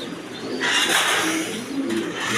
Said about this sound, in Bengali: এগুলো রানিং কবুতর, ডিম বাচ্চা করানো কবুতর, প্রকৃত খামারি কবুতর।